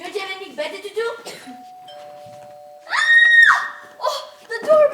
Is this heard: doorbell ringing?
yes